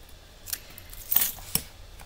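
Scissors snip ribbon ends on a handmade Vaseline gift box, a few soft, quick cuts close by and quiet, with a couple of brief sharper clicks.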